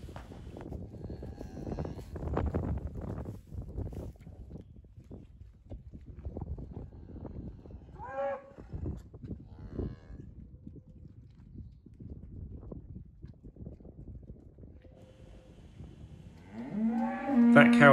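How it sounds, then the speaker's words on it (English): Gloucester cattle moo outdoors on a farm, with several low, drawn-out calls over steady background noise and a loud, close moo at the very end. "That cow on the other side of the rails there is Evening Beauty"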